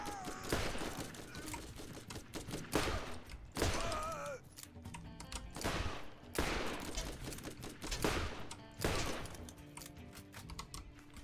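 Rapid SMG gunfire in the video game Borderlands, dense bursts of automatic shots coming in repeated clusters with short pauses, loud and close, with clicky mechanical game effects in between.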